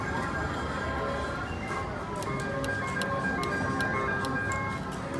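Electronic slot machine jingle with a looping tinkly melody and rhythmic ticking as the reels spin, steady and moderately loud throughout.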